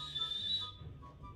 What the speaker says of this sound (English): The boiler's kettling.